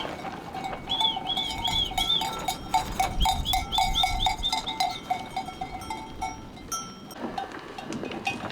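A flock of sheep moves through snowy winter mountains, its animal bells clanking and jingling in quick uneven runs close by over soft shuffling, with faint outdoor noise in between.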